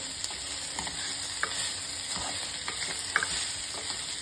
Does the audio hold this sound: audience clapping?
no